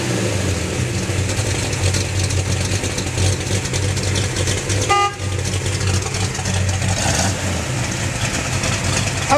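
A 1967 Plymouth GTX engine runs steadily, heard from the rear of the car, with a continuous low rumble throughout and a brief horn-like toot midway.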